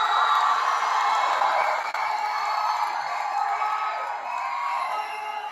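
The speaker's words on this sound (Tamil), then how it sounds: "சந்தானம் அவர்களே ஒரு பெரிய கைத்தட்டலோட" Loud crowd at a film pre-release event cheering and whooping for actor Santhanam, a steady dense roar of voices lasting throughout.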